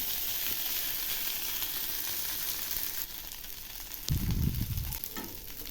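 Stuffed brinjal slices fry in an air fryer with a steady, close sizzle, and a brief louder scrape and thump partway through as a slice is flipped.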